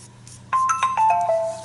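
A phone gives a short bright melodic ringtone, a few rising and falling chiming notes in quick succession, close and clear in a quiet room.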